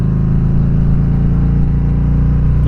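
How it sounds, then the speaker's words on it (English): Exhaust from a 2017 Harley-Davidson Street Glide Special touring motorcycle rumbles steadily at close range, a deep, even idle-to-rev drone running unbroken and loud throughout with no talking. "Let you hear some exhaust."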